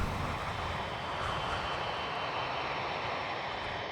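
Boeing 747 on final approach to Honolulu with only two engines running after a cargo door failure, its engines giving a steady, loud broadband roar with a faint high whine, unbroken throughout.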